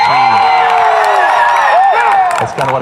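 A crowd at an Army versus Navy event cheers loudly for the Army team, with whoops, yells and shouts blending into a sustained roar, a few claps and a brief dip near the end.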